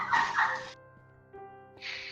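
Dogs barking inside a house, two loud close bursts of barks, a pause with faint tonal background hum, then another bark burst at the end.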